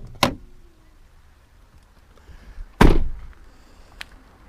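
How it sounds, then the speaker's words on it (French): Citroën C4 Cactus from 2018: the driver's door opens with a sharp click, then a louder thunk comes from pulling the bonnet release inside, followed by a brief small click, all close and with no talking. "Pour ouvrir le capot, on ouvre la porte côté chauffeur et on tire."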